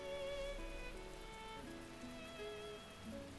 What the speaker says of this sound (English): My room's filled with the rushing sound of the rain outside.